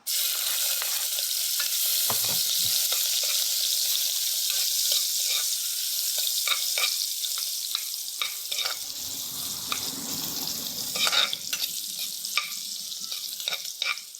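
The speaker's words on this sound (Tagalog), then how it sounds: "magigisa na siya" Ingredients for tinola sauté in a hot pan, giving a steady, close sizzling hiss throughout with occasional stirring scrapes and clinks, and no talking.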